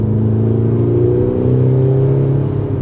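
An Audi SQ5 engine revs hard under full throttle, a loud, close droning growl whose pitch climbs steadily over a few seconds.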